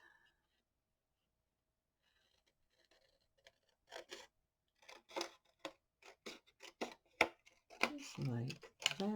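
Scissors snip through material for a Love Folio craft project, a run of short sharp cuts in quick succession close by, preceded by faint rustling and handling noise.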